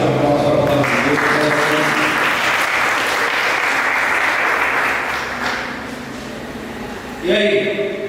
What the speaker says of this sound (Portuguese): Dá uma salva de palmas para a palavra de Deus.